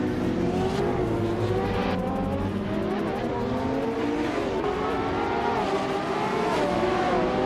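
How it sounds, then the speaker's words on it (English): A 2015 Ferrari FXXK hypercar in a racing video game howls loud and near, its engine revving hard and rising in pitch through successive upshifts, with no voices. "He's driving a 2015 Ferrari FXXK, so we can expect some serious speed from this hypercar"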